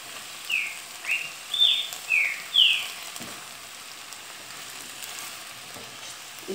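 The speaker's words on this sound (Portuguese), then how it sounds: "Estão ouvindo aí, gente, o canto do passarinho? Eu tô com 2 passarinhos aqui na cozinha aqui." A few short, high chirps from two small birds in a kitchen come in quick bursts over a couple of seconds, then fade into a quiet indoor background.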